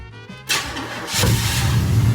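An old barn-find race car engine cranks briefly after gas is squirted in, catches with a burst, then settles into a loud, rough running rumble close by.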